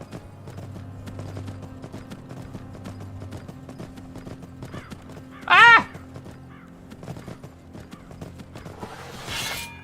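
A horse's hooves clip-clop in a steady walking rhythm in the video game Skyrim, with a brief loud vocal outburst midway and faint ambient game sounds beneath.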